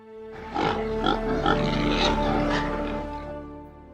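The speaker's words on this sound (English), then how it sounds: "The man sent him into the fields to feed pigs." Pigs in a field at feeding time give deep, continuous grunts and snorts, fairly close and loud, lasting several seconds with no talking.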